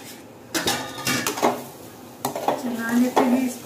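A pot lid lifts off and a spoon clatters and scrapes through thick carrot halwa in a pot on low heat, in a few sharp metallic knocks and stirring strokes, close and fairly loud.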